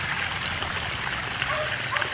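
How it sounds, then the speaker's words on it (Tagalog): Steady water running toward a creek beside rice paddies, a soft continuous trickling wash heard up close and fairly quiet throughout, with no other sounds standing out. "tuloy-tuloy lang yung tubig ko puntang sapa"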